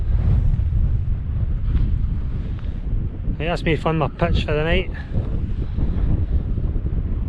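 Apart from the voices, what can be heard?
strong wind on a mountain loch shore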